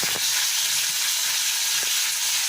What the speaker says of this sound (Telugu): కొంచెం వెల్లుల్లి వేస్తున్నాను.